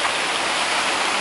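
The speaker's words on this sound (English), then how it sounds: "waterfalls" Waterfall by a river on a trail, heard as a steady, loud, broadband rushing roar of falling water filling the short moment without voices.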